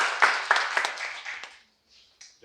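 A short burst of scattered applause from a small audience quickly fades out, leaving near silence with a faint sound at the end.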